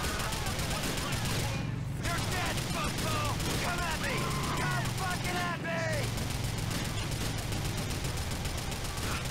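Sustained gunfire in the GTA IV video game The Lost and Damned, a dense, continuous barrage of shots that runs throughout, with a voice talking over parts of it.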